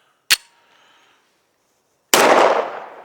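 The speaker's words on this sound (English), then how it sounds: "You kind of want to spread those shots out a little bit." Two sharp handgun shots ring out at an outdoor shooting range during carry-gun practice. A crisp crack comes first, followed after a pause by a louder, closer blast that decays slowly.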